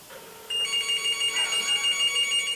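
A telephone rings for an incoming call, a loud electronic warbling tone that starts abruptly and pulses steadily, close and alone with no talk.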